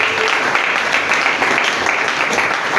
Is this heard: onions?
no